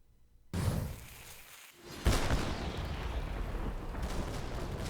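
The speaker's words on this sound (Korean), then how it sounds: "둥그런 포탄이 적진을 파고들더니 굉음과 함께 폭발이 일어납니다." A Joseon bigyeokjincheonroe cannonball bomb explodes with a roar: a sudden loud boom followed by a second bigger blast that rumbles and crackles on, heavy and close with no voices.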